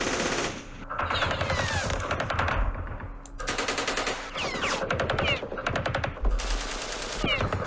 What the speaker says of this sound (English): we do have a whole bunch of weapons here. Let's fire.